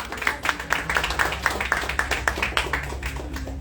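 A small audience at a live film event for Setelah Lewat Jam Malam claps in a loose, moderately quiet patter of distinct individual hand claps, with a few murmuring voices underneath.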